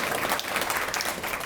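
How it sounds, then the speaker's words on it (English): Audience applause for Cliff and Amber Reams, a steady wash of many hands clapping at once, fairly close and even in loudness, with no voices standing out. "Another round of applause for Reams"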